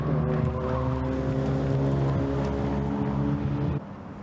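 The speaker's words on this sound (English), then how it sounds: "number 1 car coming into club corner now" Race car number 1, driven by Heston Blumenthal, coming into Club corner on a circuit, a loud steady engine drone with stacked harmonics that cuts off abruptly near the end, no talking.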